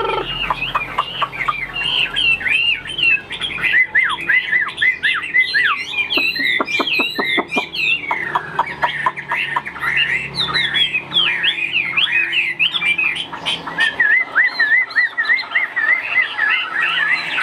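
A caged bird, the large Vietnamese long-tailed songbird known as chim ngũ trường, squawks and chirps in rapid, busy, repeated calls close by, loud and continuous throughout.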